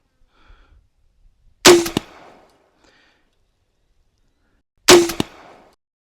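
An X-Products Can Cannon launcher fires soda cans at targets in two sharp, loud bangs a few seconds apart, each with a brief ringing tail, in an otherwise quiet outdoor setting.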